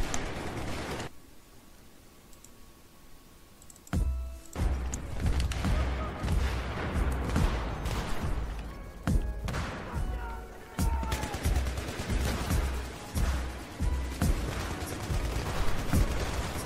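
Rapid bursts of gunfire and booming blasts sound over a music track, with occasional voices mixed in, the shots coming irregularly and loud.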